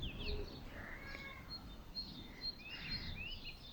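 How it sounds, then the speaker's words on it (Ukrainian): Birds chirp and twitter in short bright bursts over a soft outdoor background, calls overlapping irregularly throughout. "пташки співають"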